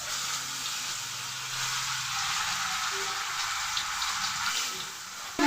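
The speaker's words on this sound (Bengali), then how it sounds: "এবার আমি মাছগুলো ভেজে নিব" Salted, turmeric-rubbed fish fry in hot oil in a wok, giving a steady, close, bright sizzle that continues without pause and with no talking.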